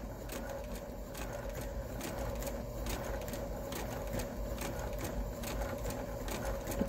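A sewing machine stitches in the ditch along a quilt seam, a steady, close, continuous rapid mechanical whir with fine repeating clicks, running evenly throughout with no talking.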